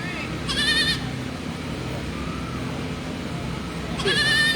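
Goats bleating at a fair's livestock barn during birthing season, two strong harmonic bleats at the start and end over a steady murmur of crowd noise and background chatter.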